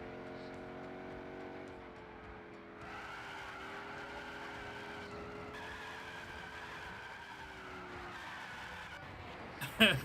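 Tires skid and slide in Gran Turismo 6 as a Chevy drifts and spins out, a steady engine drone with squealing bands and a sharp knock near the end, with a voice under the game sound.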